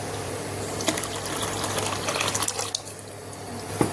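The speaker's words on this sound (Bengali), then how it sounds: "এতে আবার জল মিলিয়ে দেবো।" Water is poured close by into a yogurt and gram flour batter for kadhi, a steady splashing gush lasting a few seconds with no talking.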